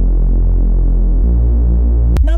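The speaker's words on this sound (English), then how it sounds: "you can use this one now as a sub bass" A pure sine-wave sub bass layer, pitched one octave down on an extra oscillator in the Serum synth, throbs as a steady, loud, low drone alone, its pitch stepping down midway before a brief burst of a brighter bass sound at the end.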